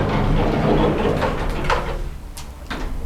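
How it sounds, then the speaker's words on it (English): A textured glass sliding door slides open in a furnished apartment, giving a broad rolling rumble with a few soft clicks and knocks toward the end, fairly close and loud. "we have this textured glass door, sliding door. And when you open them,"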